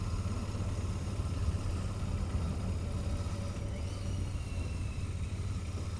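A Royal Enfield Continental GT 650 motorcycle rides through town, its parallel-twin engine giving a steady low rumble with faint wind noise, constant and moderately loud from the rider's position, with no talking.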